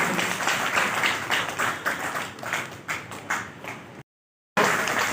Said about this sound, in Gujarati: આપણે જોરદાર તાળીઓ વગાડું છું